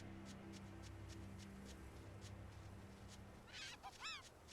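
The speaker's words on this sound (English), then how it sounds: "That is not a sound I would expect a bird to make." A bird creature in the video game Tales of Berseria gives a short burst of squawking honks near the end, standing out over a quiet game background hum.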